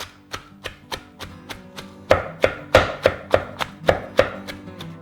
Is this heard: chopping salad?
yes